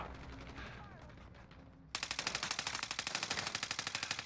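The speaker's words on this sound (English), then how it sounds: "Shit, I'm taking fire!" Sustained automatic gunfire in Call of Duty Warzone erupts about halfway through as a loud, rapid burst of evenly spaced shots, after quieter game ambience with distant scattered shots.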